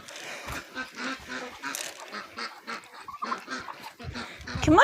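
Ducks being fed call out in a run of short nasal quacks and honks, fairly close and steady over several seconds, growing louder toward the end.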